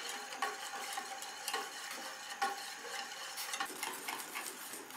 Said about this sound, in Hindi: इसको विस्क के साथ मिक्स करेंगे और इतनी देर पकाएंगे कि ये थिक हो जाए।